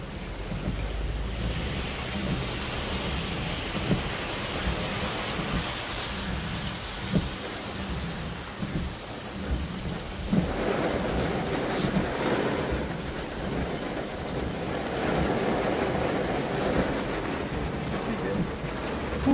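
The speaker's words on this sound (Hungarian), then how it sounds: "Hogy ömlik a víz, nézzétek meg ott" Heavy rain pours down steadily with a dense, rushing hiss, growing louder midway, with low rumbling underneath and no voices.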